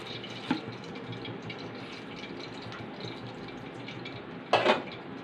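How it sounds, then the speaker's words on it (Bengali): Oil is poured into a hot wok, a faint liquid trickle over quiet kitchen background, with a brief clink near the start and a short louder splash toward the end. "কড়াই গরম হয়ে গেছে, তেল দিয়ে দেবো।"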